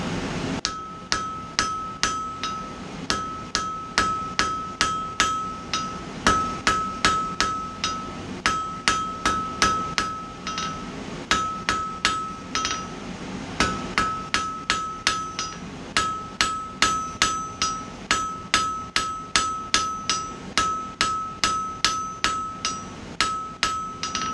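A blacksmith's hammer forges hot metal on an anvil while making a tong rack, striking steady, ringing blows in a continuous rhythm at close range, with short pauses between runs of strikes.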